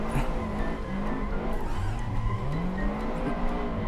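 A car drifts in the Assetto Corsa racing game, driven with a steering wheel: a loud, sustained engine roar with long, wavering tyre squeals sliding up and down in pitch throughout.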